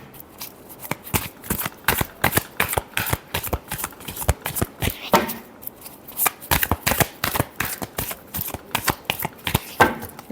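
A deck of tarot cards is shuffled by hand in quick, rhythmic bursts of crisp riffling slaps, close and loud, with no talking.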